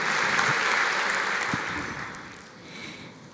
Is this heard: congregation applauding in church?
yes